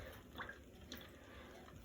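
Water draining and dripping from the slides of a brass instrument after it is rotated during cleaning, a faint, continuous trickle with small splashes and drips, no talking.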